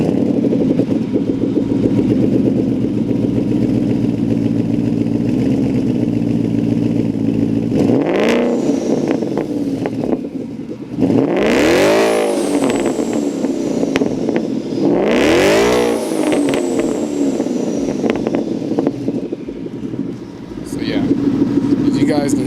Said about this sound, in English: so you guys can hear what these Corsas sound like